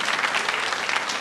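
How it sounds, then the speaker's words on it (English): An audience at the We the Women 2026 event at the Anil Agarwal Riverside Studios in London claps in a brief, dense burst of even applause without pause. "You can clap."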